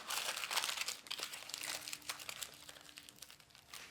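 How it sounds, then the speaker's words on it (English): Aluminum foil crinkles and crunches as it is wrapped around the tips of a raw turkey's wings and drumsticks, a close, continuous rustling with sharper crackles throughout. "take some foil, wrap it around these wing tips"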